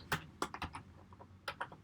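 Keys are tapped on a computer keyboard while entering a formula in Excel, a faint, irregular run of about eight close clicks with short pauses between them.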